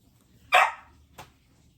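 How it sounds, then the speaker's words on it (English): A pet dog indoors gives one sharp, fairly loud bark followed by a softer short yip, close by in an otherwise quiet room. "I have a dog. Can't decide if he wants in or out."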